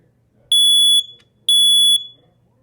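A First Alert SA10YR 10-year smoke alarm sounds its test pattern at close range: two loud, piercing electronic beeps, each about half a second long, separated by a short gap.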